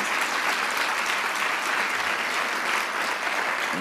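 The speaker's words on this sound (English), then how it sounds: "let's give a round of applause again for our panelists and our wonderful readers" An audience at a literary reading applauds panelists and readers, a dense, steady roar of clapping hands that holds evenly from start to finish with no voices on top.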